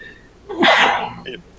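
A single loud sneeze close to the microphone during a tabletop role-playing game session, a sharp burst followed by a brief faint exhale.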